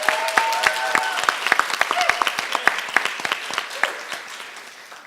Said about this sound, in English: Let's welcome Kathy with a round of applause